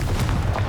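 A Confringo blasting spell goes off in Hogwarts Legacy, a short dull boom with a burst of noisy crackle, heard alone and close.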